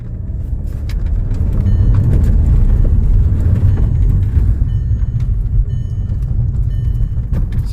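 A 2006 Volkswagen Passat 2.0T with a turbo boost sensor circuit fault hums with a deep, steady engine rumble that swells briefly under a quick press of throttle, close and loud, with no talk.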